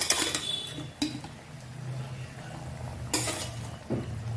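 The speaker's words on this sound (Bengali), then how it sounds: "ঝোলটা ফুটে উঠেছে, মাছগুলো সব দিয়ে দেবো" Fish pieces going into boiling mustard gravy in a pan: a few clattering pan and utensil knocks over a low bubbling simmer, with a louder splashy rattle near the end.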